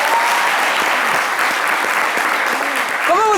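Loud, continuous audience applause in a studio setting, with a few voices and brief cheers rising faintly over the clapping near the end.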